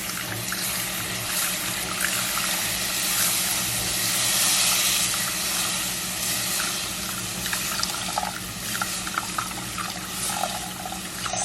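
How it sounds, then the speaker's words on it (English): Cold milk poured slowly into a hot roux for baked macaroni and cheese hisses and bubbles steadily throughout, a broad, continuous sizzling wash with no talking. "Start slowly because it's going to bubble up on you, and then once it stops hissing at you, you can pour it faster."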